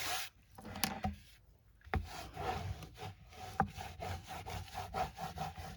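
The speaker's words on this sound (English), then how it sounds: "And I'm just spreading out the glue." Glue is spread across book board with a Teflon bone folder in close, soft rubbing and scraping strokes, with a few sharper taps and knocks along the way.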